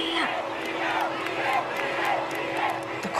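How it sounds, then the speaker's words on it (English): A huge concert crowd in São Paulo roars and screams continuously, a dense wall of cheering and shrieks filling the space loudly from start to finish. "The crowd going mad for me"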